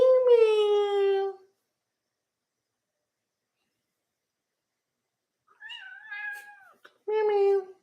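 A cat meows loudly up close with a long, drawn-out call. After a pause, a brief voice-like sound follows and then another short meow.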